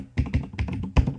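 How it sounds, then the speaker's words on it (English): Quick tapping on a computer keyboard, a handful of distinct keystrokes in an uneven rhythm, close and clear with no talking. "I'm going to type in"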